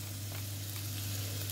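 Chopped onions sizzle and fry steadily in a pan while cooking a ratatouille, a continuous close crackle with a steady low hum underneath and no talk.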